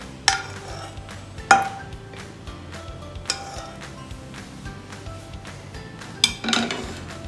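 Sattu and ghee being mixed in a pan, with a spoon scraping and stirring steadily and a few sharp metallic clinks and knocks against the pan, all close by and with no talking.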